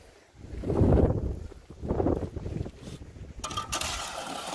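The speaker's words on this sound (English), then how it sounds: "we now have ourselves a cement mixer" A cement mixer runs nearby with a rumbling, churning drum that swells and fades in slow cycles, rough and windy, with a brighter mechanical rattle toward the end.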